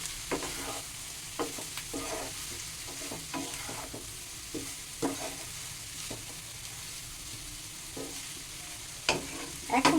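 Boiled potato and vegetable stalks fry in a pan for a fresh river kachki fish chorchori, with a steady sizzle broken by repeated scraping stirs of a spatula, close and moderately loud, no voices.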